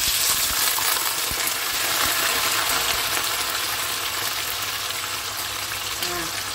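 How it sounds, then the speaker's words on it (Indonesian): White tofu pieces fry in hot oil with a steady, loud, dense sizzle and crackle that runs throughout, with no talking. "Sekarang masukkan tahunya untuk kita goreng ya."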